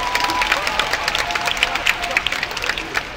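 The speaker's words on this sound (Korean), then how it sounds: "여기 박수 한번 부탁드리겠습니다" Audience applause and some cheering at an open talk event at the Busan International Film Festival, a dense patter of clapping from a crowd, steady and fairly loud, with voices mixed in.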